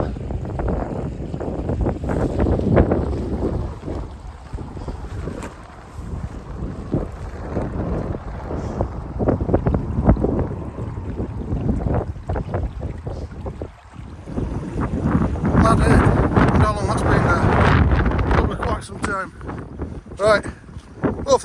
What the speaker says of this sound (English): hopefully it's going to be a bit less windy down here